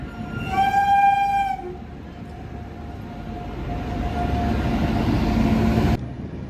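A train sounds a long, loud horn blast at a railway station platform, then a rumbling, hissing rail drone carries on for several seconds before cutting off abruptly.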